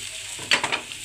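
Pieces of capsicum drop into a hot frying pan and get stirred, with a few quick clattering scrapes and a soft sizzle underneath, close and fairly quiet.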